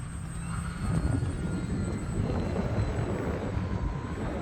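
An E-flite Pitts 850mm RC airplane on 4S power flying at about quarter throttle, a steady, moderate motor drone with a faint high whine, distant and continuous with wind-like noise.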